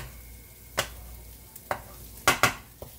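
Eggs cook in a pan for chicken fried rice while a utensil stirs them. A soft sizzle runs underneath a handful of sharp scraping strokes, including a quick double stroke near the end.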